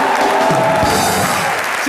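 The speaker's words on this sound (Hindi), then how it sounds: "एक बार जोरदार तालियां करण सर के लिए।" A studio audience applauds for a guest named Karan on a Hindi comedy talk show, a loud, dense burst of clapping that blends with crowd noise for about two seconds.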